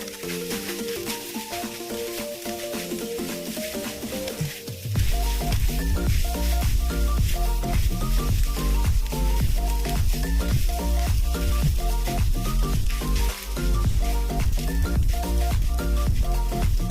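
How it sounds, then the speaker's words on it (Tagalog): Cold cooked rice and ground meat are stir-fried together for fried rice, with a loud, steady sizzle of frying that swells after a quieter start. Constant scraping and tossing of the stirring carry on throughout, and no one speaks. "Okay na yung giniling, isinunod ko na itong kaning lamig. At syempre, hinalo-halo."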